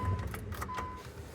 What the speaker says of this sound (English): it's got power windows and power door locks